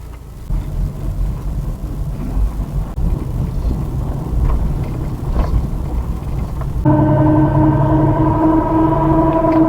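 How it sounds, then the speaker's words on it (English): Steady road roar from a car's tires while it drives, a continuous close rumble that later gains a droning tonal hum. "That tire noise."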